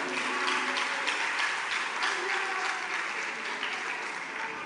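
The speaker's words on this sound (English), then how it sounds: "Let's clap for them." Sustained audience applause at a live university gas challenge quiz contest, an even wash of many hands clapping at moderate distance with no talk over it.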